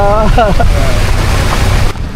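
Strong cyclone wind roars and buffets the microphone with heavy, constant rushing noise, and a voice speaks briefly at the start.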